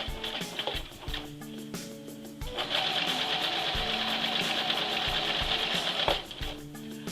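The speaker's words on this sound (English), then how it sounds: "Using the free arm and the pants inside out, I'm stitching along the edge of the serging." A sewing machine stitches a pants hem on the free arm, its motor whirring in a steady fast rhythm through a long continuous run, with short start-stop bursts before and after.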